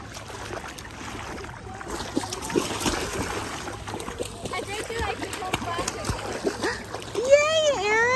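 A child stomps and splashes in warm beach water, with irregular wet slaps and sloshes close by, mixed with a voice and the chatter of adults nearby.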